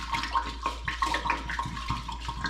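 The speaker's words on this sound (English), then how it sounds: "Now you're gonna take your strainer with the really tiny holes, and you're gonna pour it out." Water pours out of an old glass bottle through a fine-mesh strainer, giving a steady trickling splash with repeated sloshes as the bottle is shaken, heard alone and fairly faint.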